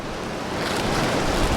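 Wind blowing through fog on Mount Bismo, a steady, close roaring rush of broadband noise that swells slightly over a brief moment, with no voices.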